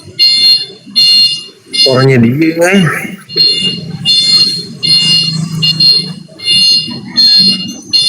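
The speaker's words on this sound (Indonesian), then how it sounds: "Alarm mobil." A car alarm sounds in repeated on-off bursts of a high electronic tone at a steady rhythm, loud and close, while people talk over it in the middle.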